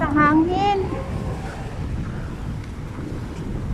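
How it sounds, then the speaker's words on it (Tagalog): Strong wind buffets the microphone outdoors in Taiwan, a steady rumbling roar that runs throughout, with a person speaking briefly at the start. "Malakas po yung hangin."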